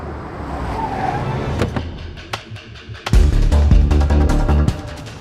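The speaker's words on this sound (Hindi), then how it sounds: "आप लोग हट जाइए, गाड़ी आ रही है, प्लीज हटिए" A car drives up close, its engine and tyres rising from a faint approach to a loud, near rumble with sharp clicks and knocks along the way.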